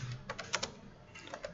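Light clicking of fingers typing on a computer keyboard, a quick irregular burst of soft keystrokes heard up close and quietly, with no talking.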